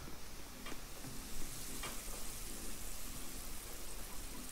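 Chili cooks in a pot in a Roblox game, giving a steady, close sizzle with faint clicks over it.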